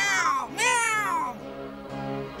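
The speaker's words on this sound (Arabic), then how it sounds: "فكانه صوت هر متألم" A cartoon cat meows in pain in a Smurfs animation, two drawn-out, wavering cries followed by a softer, lower whine, loud and close with no talking.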